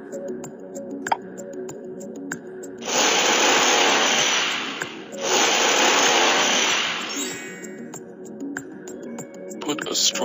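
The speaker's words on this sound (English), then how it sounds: "Now make a small hole with drill machine halfway up on one side of the bottle." Power drill boring a small hole into the side of an empty plastic bottle, two loud sustained bursts of whirring grind separated by a short pause, with quieter clicks and handling noise around them.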